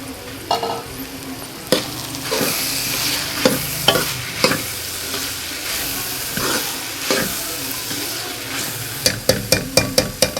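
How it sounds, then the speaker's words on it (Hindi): Green beans and potatoes fry in a pan, a loud close sizzle punctuated by repeated spatula scrapes and knocks against the pan, ending in a quick run of rhythmic taps; no speech. "अब मैं इसमें आलू भी ऐड कर दूँगी"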